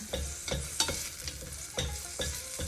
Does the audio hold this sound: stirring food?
yes